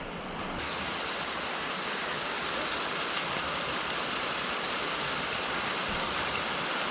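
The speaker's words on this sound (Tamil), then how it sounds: "முரட்டு மழையாக பெஞ்சிக்கிட்டு இருக்கு" Heavy rain pours steadily on a hairpin-bend mountain road in the Kolli Hills, a dense, constant hiss that holds at the same loud level throughout, with no voices over it.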